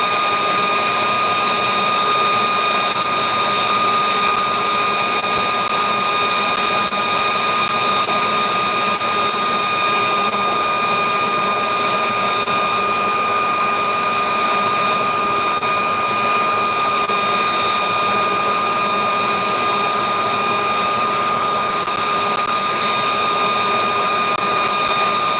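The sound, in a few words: blacksmith's forge running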